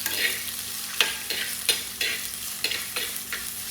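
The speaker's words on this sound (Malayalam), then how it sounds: "നല്ലോണം വഴറ്റി കൊടുക്കാം." Onion, ginger and green chilli are sautéed in a pan. About six rhythmic, close stirring strokes scrape through a continuous crackling sizzle.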